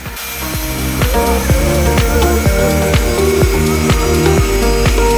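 A power drill whirs loudly and continuously, grinding through timber with a repeating rhythmic chatter close by, during a garden room build.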